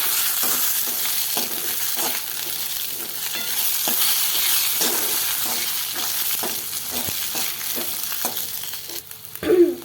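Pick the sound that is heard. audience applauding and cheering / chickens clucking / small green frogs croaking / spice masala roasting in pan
spice masala roasting in pan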